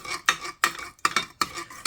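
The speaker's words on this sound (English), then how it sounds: "Stir it all in together." A spoon scrapes and stirs Annie's macaroni shells with butter and milk in a pot, five quick rhythmic metallic strokes, close and clear with no talk.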